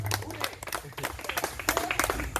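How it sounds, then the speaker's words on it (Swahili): An audience at an alumni party claps in a brief burst of close, irregular applause, with voices mixed in. "Tumpigie makofi"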